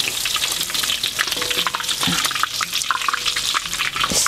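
Tofu frying in hot oil in a wok for tahu gejrot: a loud, continuous crackling sizzle with bubbling and occasional clinks and stirring knocks close by.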